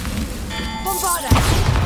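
A Bombarda spell explodes in the game Hogwarts Legacy: a brief rising tonal shimmer gives way to a sudden booming burst that rumbles on through the end of the short clip.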